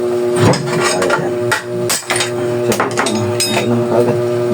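Hammer striking a bicycle part during an overhaul and restoration, giving sharp metallic knocks in an irregular series of close, loud blows with ringing clinks between them.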